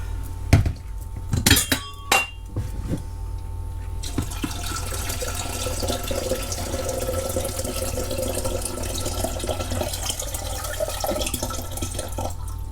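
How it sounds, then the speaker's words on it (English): Tap water runs steadily into a kettle and jugs in a caravan, after a few clinks and knocks of handling, then a continuous rushing pour that stays loud and close to the end. "I've got to fill these kettle and jugs up for him and I"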